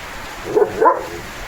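Leo the dog lets out two quick close barks at heavy rain, the second stronger, against a constant rushing backdrop of rainfall.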